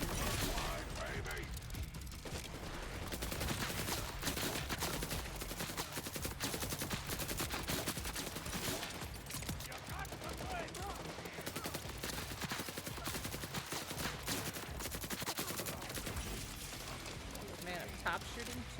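Video game gunfire, with rapid, continuous bursts of automatic shots and mechanical clatter running throughout, fairly faint and layered under people talking.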